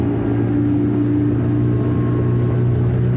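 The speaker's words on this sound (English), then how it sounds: "I'm going to get it up running under throttle here, so everybody can see how well this motor runs." Steady, loud drone of a 2005 Skeeter SL 180 fish-and-ski boat running on a lake under throttle with its Yamaha 150 V Max outboard, a constant low engine hum with water rush and no voices.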